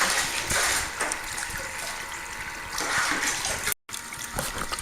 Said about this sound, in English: here's a long shot of this extended sluice doing its job here